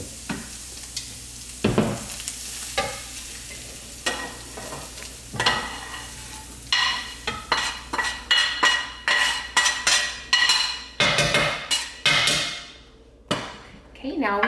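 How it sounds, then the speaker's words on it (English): Browned meat is scooped out of a frying pan, giving repeated close scraping and clinking strokes of a utensil against the pan over a faint sizzle. The strokes come faster and in a rhythmic run toward the end. "I'm gonna take this out of the pan and set it to the side"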